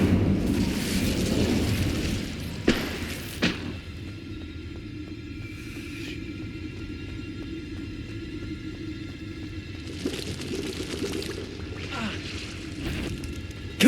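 Incendio fire spell cast in Hogwarts Legacy, a rumbling burst of flame with a few sharp pops and crackles over a low steady roar.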